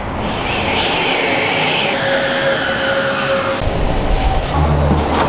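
A metro train in Mexico rumbles loudly and continuously, with a steady whine and shifting mechanical noise as it travels, no talking.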